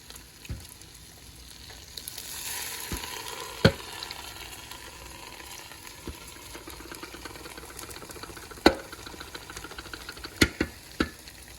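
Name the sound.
chicken sizzling in a frying pan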